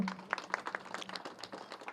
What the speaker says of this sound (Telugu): గట్టి క్లాప్స్ కొడదాము